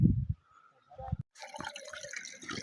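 Rushing water from a stream flowing well below a road, a steady broadband hiss that swells in after a few low thumps and murmurs at the start.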